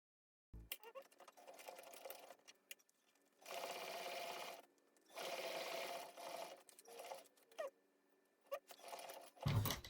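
A sewing machine stitching a seam on a fabric bag: several close bursts of rapid mechanical whirring, some long and some short, separated by quiet pauses and small clicks.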